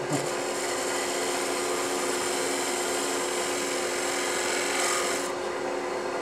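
A wood lathe shear-scrapes a turned wooden cigar ashtray, a steady continuous rasping scrape near and loud throughout, easing off briefly toward the end.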